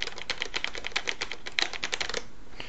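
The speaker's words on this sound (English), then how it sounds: "They're all using the cherry black key switches." Rapid typing on an Azio Levetron Mech4 mechanical keyboard with Cherry MX Black switches: a dense run of crisp, close clacks in an uneven rhythm that thins out and stops near the end.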